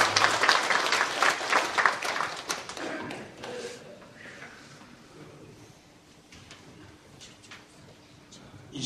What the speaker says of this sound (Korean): 한번 목사님을 향해서 우리가 다시 한번 박수 한번 주시면 고맙겠습니다